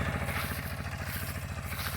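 Small walk-behind motor tractor engine running steadily while raking hay into windrows in a field, a continuous close, loud mid-pitched chug with rhythmic clattering from the rake and no talk.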